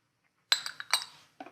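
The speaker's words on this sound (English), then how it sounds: "And stir them in." Chives and parsley are stirred into risotto, with a spoon knocking a few light, bright clinks against the pan in a quick, uneven run, close and fairly quiet.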